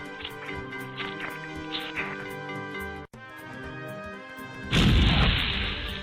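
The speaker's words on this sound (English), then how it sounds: "Nothing like a good explosion to brighten up your day" A video game explosion in the Space Quest 2 remake, heard as a sudden loud burst of noisy rumble near the end that follows a stretch of game music and sound effects.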